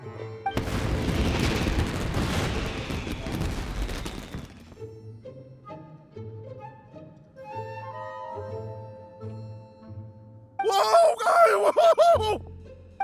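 Fireworks burst in the video game Genshin Impact: a dense, loud crackling barrage of explosions, then quieter musical tones, then another bright crackling volley near the end.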